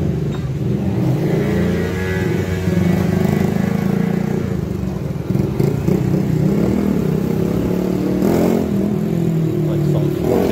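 On a road on Corfu, a motorbike revs loudly near the listener over a scooter's steady engine drone, with rising and falling surges of engine noise.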